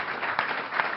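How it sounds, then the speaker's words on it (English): A television studio audience at a Bathurst motorsport panel show keeps up applause, a brief burst of dense clapping that fills the moment with a couple of sharper peaks. "And keep that applause going"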